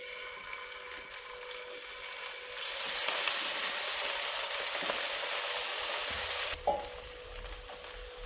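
Chicken fries in a pan, producing a continuous close sizzle that swells louder midway, with a brief clink of stirring before it settles back to a steady hiss.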